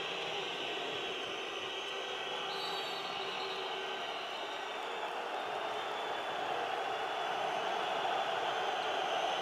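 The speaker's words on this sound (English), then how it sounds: "the roars have increased in volume and the boos and heckles from the Macedonian fans" Handball crowd of Macedonian fans at EHF EURO 2012 Czech Republic versus Macedonia, a continuous roaring wall of arena noise with boos and heckles blended into a steady, dense din.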